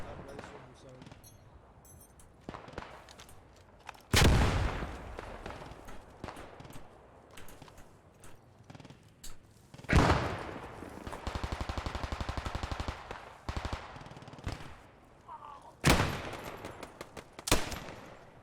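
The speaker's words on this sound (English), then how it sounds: "They're trying to get like a little crossfire going here with machine guns." Machine guns trade crossfire in the World War II shooter Post Scriptum, sounding as loud bursts of automatic gunfire around 4, 10–13, 16 and 17.5 seconds, with quieter battle noise and some talk between them.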